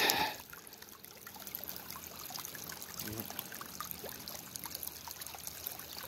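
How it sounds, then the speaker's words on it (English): Mine runoff water trickling and bubbling up into the Susquehanna River near the Knox Mine site, a steady outdoor trickle and gurgle with a brief louder burst at the start. "that's another location where the water's coming up out of the mine and into the river."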